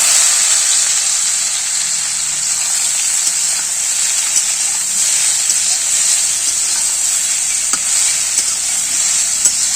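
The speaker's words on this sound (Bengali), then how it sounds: "এবারে আমি ডাঁটা আর আলুটা ওর মধ্যে দিয়ে দিচ্ছি।" Drumsticks and potatoes dropped into hot oil in a heated kadai: a loud, steady, close sizzle and hiss that runs without a break, with faint crackles throughout.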